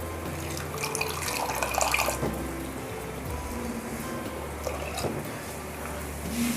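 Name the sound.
water poured from blender jar into pan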